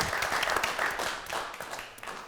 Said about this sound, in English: a big round of applause please for our guests